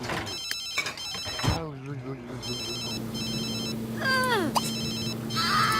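A telephone rings in The Sims 3 in repeated electronic trilling bursts, mixed with game sound effects and background music. Voices talk over it throughout.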